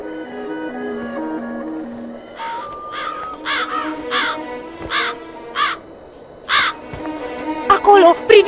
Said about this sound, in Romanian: Acolo, priviți, corbul!